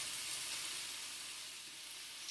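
Artichokes sauté in a pan with garlic, giving a steady, soft sizzling hiss that stays even throughout, with no talking.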